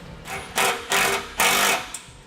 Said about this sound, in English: we'll come back with that 9/16 socket and snug it up